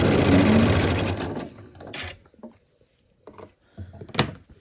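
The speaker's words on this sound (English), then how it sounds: "So we're going to sew this together." A sewing machine stitches fabric pieces for a quilt block in a steady, loud whirring run that stops after about a second and a half, followed by a few quiet handling clicks and taps.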